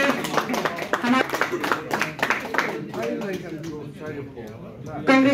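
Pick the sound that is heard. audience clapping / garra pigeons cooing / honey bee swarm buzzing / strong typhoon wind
audience clapping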